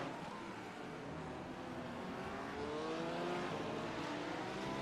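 Race car engines roar steadily in an iRacing sim race at the Creventic 12 Hours of Barcelona, with GT3 cars including a Lamborghini, multiple engines droning and rising in pitch at a moderate distance.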